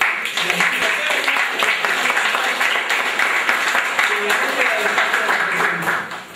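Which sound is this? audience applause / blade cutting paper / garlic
audience applause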